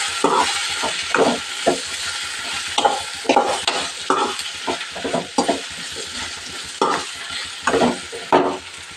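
Okra (bhindi) sizzles as it fries in a pan and is stirred, with a spoon scraping and clattering in irregular bursts over a steady hiss, close and alone.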